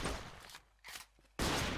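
Two bursts of rapid gunfire in Minecraft separated by a short quiet gap, loud and close, with the sharp crackle of video game weapons.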